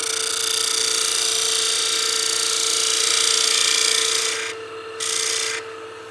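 Woodturning tool peels wood from a spinning piece on a lathe for an artifact pot, a loud continuous hissing rasp over the steady motor hum, briefly interrupted twice near the end.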